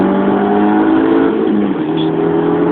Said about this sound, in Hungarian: most padlógáz, ami a csövünk kifér